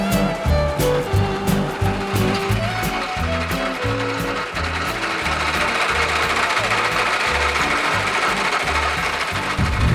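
A Trabant two-stroke engine converted into a tractor runs at a tractor rally, giving a loud, buzzing, rapidly pulsing idle with rising and falling revs and a rattling mechanical clatter throughout.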